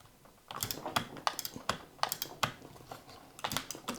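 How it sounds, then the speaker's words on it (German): A Pikes sim racing shifter, recorded from very close range, produces a series of crisp, irregular mechanical clicks, about a dozen sharp taps in quick succession with no talking. "Ich würde das Klicken jetzt eher als dezent bezeichnen."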